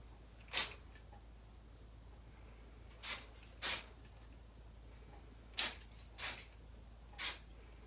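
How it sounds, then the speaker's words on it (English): Aussie Instant Freeze hairspray sprayed onto a pixie cut with side fringe, six short sharp hissing bursts spaced unevenly, close and crisp against a quiet room. "now going in with my favorite hairspray, Aussie Instant Freeze Hairspray"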